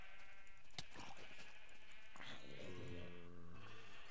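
Sheep in a video game let out a wavering, nasal bleat that rises and holds near the end, following scattered clicks and game sounds, all at a low level.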